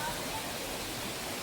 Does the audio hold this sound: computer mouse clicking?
no